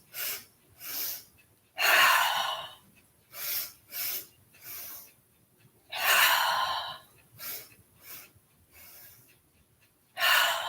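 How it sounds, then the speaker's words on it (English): Deep breaths drawn in during a yoga exercise, a series of breathy inhales and exhales at a steady rhythm, some long and strong and others short and quick, close and clear with no talking. "Breathe in."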